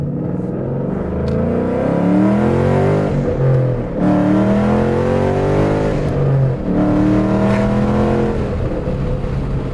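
A Ford Mustang engine revs and accelerates hard from inside the car, a loud, continuous roar with rising and falling pitch sweeps across the whole stretch.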